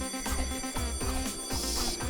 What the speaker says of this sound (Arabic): المنبه بيرن في ودانها.